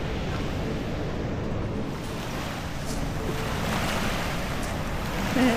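Ocean waves wash against a rocky shoreline near a resort on the south Malang coast, making a continuous broad hiss and rumble of surf mixed with wind buffeting the microphone, steady and fairly close, with no talk.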